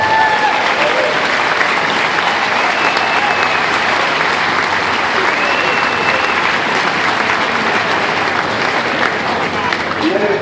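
An audience at a gala applauds loudly and steadily, a dense wash of many hands clapping that holds at full strength for about ten seconds.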